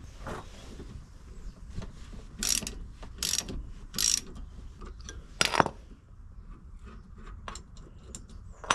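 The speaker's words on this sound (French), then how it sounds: "Et en dessous on a de la place pour mettre le cliquet." Ratchet wrench clicking on a Peugeot 1.6 HDi brake caliper bolt during a brake pad change, a few short bursts of rapid ratcheting clicks with quieter handling noises between them, close and alone.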